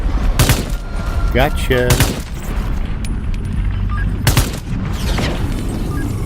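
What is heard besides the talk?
gunfire in the video game Into the Radius 2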